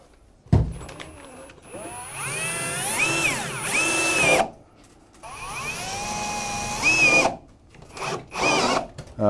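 A power drill driving fasteners into a Decra metal roof panel, two long whining runs that rise and fall in pitch, loud and close, separated by short gaps.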